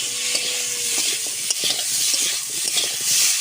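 Potatoes frying in oil with salt and turmeric, a steady broad sizzle with intermittent spoon-stirring scrapes and clinks throughout, close and fairly loud, no talking.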